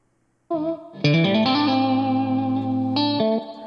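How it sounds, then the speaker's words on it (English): Dry electric guitar played straight with no amp coloring, a couple of picked notes ringing out into a long sustained note, alone and close. "disable all of the inserts so I get that clean DI'd sound, which sounds like this."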